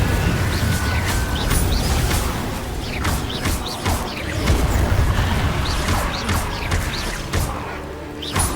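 Incendio fire spell cast in Hogwarts Legacy, heard as a string of loud whooshing, crashing bursts over dense, continuous combat noise, with impacts landing every second or so throughout.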